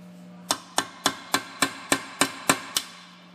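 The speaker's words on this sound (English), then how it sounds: "we're going to want to start tapping it" Light, evenly spaced hammer taps on a rusted rear wheel bearing snap ring of a 2002-2005 Ford Explorer, nine crisp metallic knocks about a third of a second apart over a faint steady hum.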